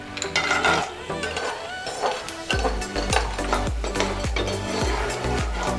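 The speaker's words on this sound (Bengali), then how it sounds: "তেলটা গরম হয়ে গেলে প্রথমেই আমরা ভেজে নেব বড়িগুলোকে।" Bori, small lentil dumplings, frying in hot oil for shukto, with a steady sizzle and a few sharp scrapes and clinks of a spatula against the pan, moderately loud, with no talking.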